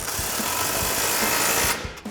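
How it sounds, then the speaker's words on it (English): A handheld impact wrench with a 15mm socket tightens an exhaust clamp after the muffler of a 2024 Tacoma's MBRP single exhaust, giving a loud, continuous rattling hammer burst that stops abruptly near the end. "Grab your impact and 15mm socket and tighten your clamp down after the muffler"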